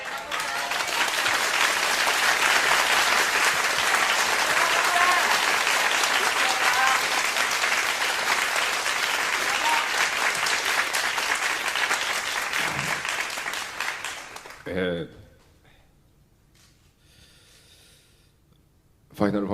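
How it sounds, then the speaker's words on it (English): A large audience claps loudly and steadily for a Final Fantasy XIV developer, the applause filling about fifteen seconds before fading out to near silence, with a brief sound at the end. "he received not awkward silence, but a round of applause from the audience"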